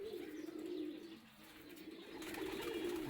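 Pigeons in a pigeon loft give soft, low, rolling coos, joined by faint chirps and a light background hum, heard close and alone with no talking.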